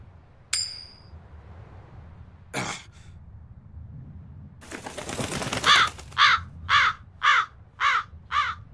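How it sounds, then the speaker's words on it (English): A crow in the video game Tales of Berseria caws loudly six times in a steady run of harsh calls near the end, after a couple of earlier game sound effects and a burst of wingbeat-like noise. "That crow just flew off with the coin."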